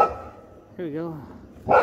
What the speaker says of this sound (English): Oops, that's the dog barking.